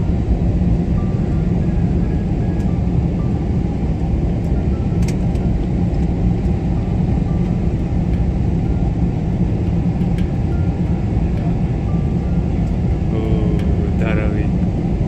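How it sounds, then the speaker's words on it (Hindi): Airliner descending to land in Mumbai in cloudy, bad weather, its steady loud cabin rumble and engine roar heard from inside, with faint brief voices near the end. "And finally we are about to land."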